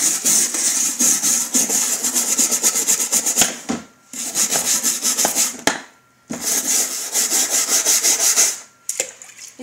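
A wet brush scrubbing a horse grooming box, with fast rhythmic rasping strokes in three bursts separated by short pauses and an occasional knock.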